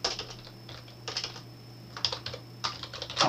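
Someone types in quick bursts on a computer keyboard, close and clear, with clusters of key clicks separated by short pauses and no talking.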